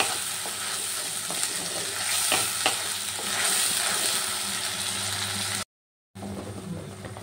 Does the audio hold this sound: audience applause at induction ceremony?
no